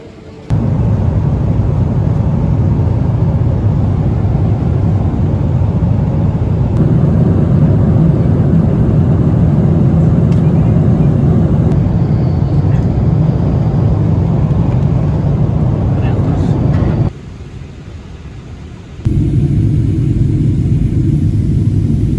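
Inside an Air China airliner in flight to Beijing, a loud, steady cabin engine drone and rumble holds almost unbroken, dipping briefly before resuming.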